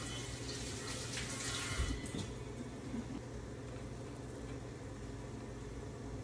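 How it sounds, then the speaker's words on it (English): Tap water runs steadily into a kitchen sink while hands are washed during keto cooking prep, a continuous close hiss with a brief splashy surge partway through and no talking. "I'm gonna wash my hands."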